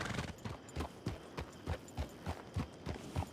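Horse hooves clip-clop in a steady, even rhythm, about a dozen distinct close hoofbeats at a walking pace with no voices.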